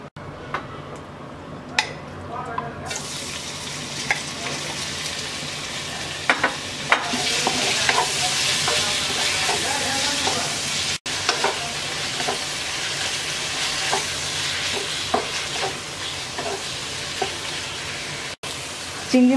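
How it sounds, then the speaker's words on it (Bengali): Prawns sizzle and crackle in hot oil in a wok for restaurant-style mixed fried rice, a steady loud frying hiss running throughout with occasional sharp spatters and the scrape of a stirring utensil. "এবার চিংড়ি মাছটা ভেজে নেব।"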